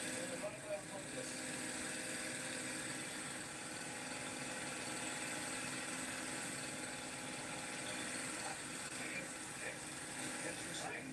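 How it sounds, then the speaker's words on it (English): A car engine idles too high with a vacuum leak, giving a continuous, fairly faint steady hum and hiss that never changes pace across the stretch. "I hear a vacuum leak, but I can't find it. It's definitely idling way too high."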